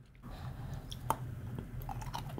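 Close, quiet chewing of an almond-flavoured compressed dry ration biscuit, with soft crunchy bites and a sharper crunch partway through, heard alone without talk.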